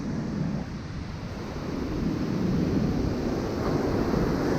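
Big ocean waves surge below a small DJI Ryze Tello drone flying over the surf, heard as a continuous, loud roar of breaking water mixed with gusty wind noise.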